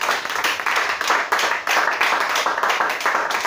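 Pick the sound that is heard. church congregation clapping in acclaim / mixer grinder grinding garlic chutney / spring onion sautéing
church congregation clapping in acclaim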